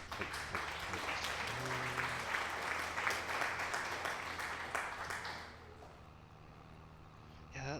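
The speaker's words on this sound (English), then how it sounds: "And thank you, Viking, for that applause." Applause from a crowd in a video game, a dense continuous clatter of clapping over a low droning engine-like hum, fading somewhat near the end.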